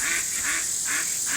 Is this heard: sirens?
no